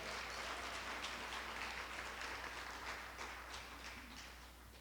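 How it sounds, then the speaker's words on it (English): Faint, steady applause from an audience at the Crystal Eagle award dinner, a soft wash of many hands clapping at a distance that gradually tapers off. "So give yourselves a round of applause, because that's incredible."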